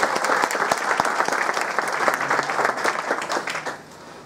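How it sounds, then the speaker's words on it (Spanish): Enthusiastic applause fills a hall at a Central American Independence event in Queens, New York, with many close, crisp claps that hold strong and then thin out and fade near the end. "Un fuerte aplauso"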